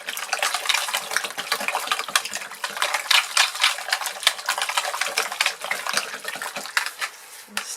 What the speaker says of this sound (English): I'll whisk this in.